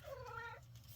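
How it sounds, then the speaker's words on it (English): A cat meows once, a drawn-out wavering cry lasting over half a second, close by, followed by quiet rustling. "Sorry, my cat if you heard that meowing,"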